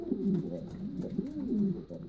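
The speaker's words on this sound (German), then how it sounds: "der Vogel da hinten wird sich gern mit ihr paaren" A racing pigeon coos in soft, low rolling phrases, repeated several times at moderate distance in a quiet loft setting, with no voices present.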